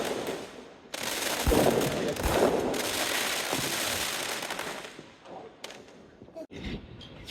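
Diwali firecrackers burst at a family celebration at home, a dense run of loud cracks and booms that keeps going for several seconds before thinning out, with voices heard faintly in the background.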